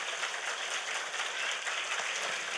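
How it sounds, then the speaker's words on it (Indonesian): Audience applause for a mosque committee at a religious lecture in Indramayu, a steady, fairly faint wash of many hands clapping without pause, with no voices over it. "Tepuk tangan dulu dong buat panitianya."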